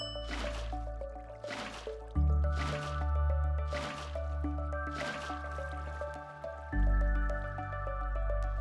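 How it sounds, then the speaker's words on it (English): In the Minecraft video game, a bucket of water is placed onto pistons, giving a series of soft, regular liquid drips and splashes over a steady, looping background music bed. "you can waterlog the pistons by placing a bucket of water and right-click on the piston."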